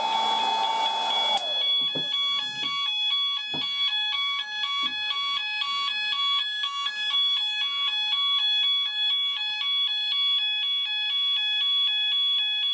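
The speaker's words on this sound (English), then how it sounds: "Okay, so we'll go ahead and test the heat detector now, so the sound on heat detector" Fire alarm sounders go off during a heat detector test of an SMS SenTRI system. They pulse in a loud, rapid, repeating electronic pattern that continues for more than ten seconds, with faint handling knocks underneath.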